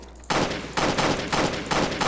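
Gunfire aimed at a cop in the Roblox game Jailbreak, four evenly spaced loud bursts of shots about half a second apart.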